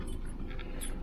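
Dogs pant near and steadily for about a second, with rapid breathy puffs forming a continuous layer and faint whimpering hints.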